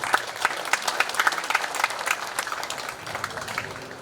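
A room full of people applauding at a clan society's general meeting, dense overlapping claps that hold steady then taper slightly toward the end.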